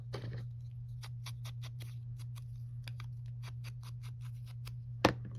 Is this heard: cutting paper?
yes